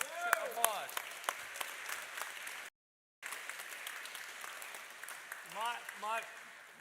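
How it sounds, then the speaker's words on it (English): An audience at the ICPC World Finals in Baku applauds Matvey with moderate clapping, under a voice speaking over it. A short gap of silence breaks the applause before it resumes alongside more speech. "Applause."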